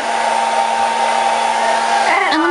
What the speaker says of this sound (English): They like the blow dryer.